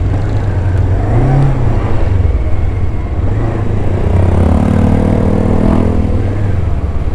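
A Bristol Venturi 500 two-cylinder motorcycle being ridden, a loud steady engine drone with small rises in pitch as the throttle varies, heard up close throughout.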